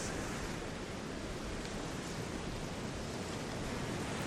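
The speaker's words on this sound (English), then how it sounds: "Feel the ocean waves." Ocean waves as a soft, continuous wash of surf noise, faint and even, with no voices and no distinct individual breakers.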